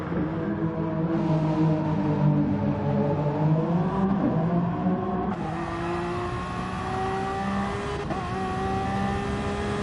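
LMP1 prototype race cars, including Toyota and Porsche 919 entries, racing at Suzuka in Gran Turismo Sport, engines whining and revving with shifts and a car passing by, steady and moderately loud without talk.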